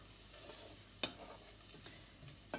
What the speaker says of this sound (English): I'm just going to stir that around a bit until I think it looks done